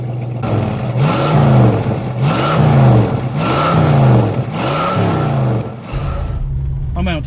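A 1967 Ford Mustang hardtop coupe with a 302 V8 and automatic transmission pulls away on the road, engine rising and falling through repeated shifts as it accelerates, loud and close with a steady drone between pulls.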